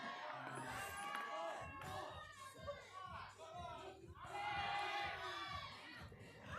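A crowd at a lead climbing final at Climb YEG in Edmonton shouts and cheers a climber on, swelling into louder whoops near the end, with voices calling out over the noise.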